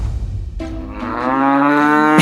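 A cow moos once, a long, loud, close lowing call rising and holding steady for nearly two seconds, with no other voices.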